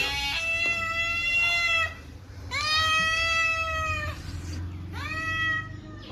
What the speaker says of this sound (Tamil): பாவம் வெயிலுக்கு பூனை கூட எங்கேயும் சுற்றுறதுக்கு போக மாட்டேங்குது